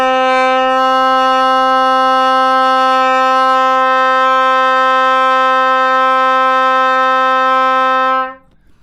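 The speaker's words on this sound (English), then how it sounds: "We want to match from the body what the trumpet needs. Sounds like this. Low D." A single sustained low D trumpet note held steadily for about eight seconds, loud and close, then stopping abruptly.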